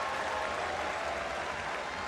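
Crowd applause in a basketball arena in Cebu during a San Miguel Alab Pilipinas home game against Saigon Heat, a faint, continuous wash of clapping and crowd noise heard from a distance.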